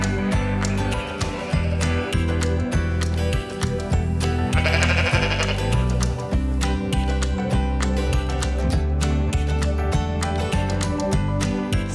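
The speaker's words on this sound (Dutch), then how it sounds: "Zo, de schapen zijn gevoerd." Sheep and lambs bleat loudly and continuously at feeding time on a farm, many overlapping calls close by, over rustling and clanking of feed and movement throughout.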